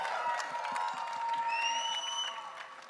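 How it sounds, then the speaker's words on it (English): A press conference crowd for the series Rana Naidu applauds and cheers, with steady clapping under rising whoops and whistle-like shouts. "you tell him with a big round of applause and some cheers in the house"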